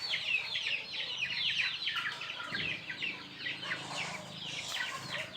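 Several chickens cluck and chatter continuously at close range, a busy overlapping flock with no talking.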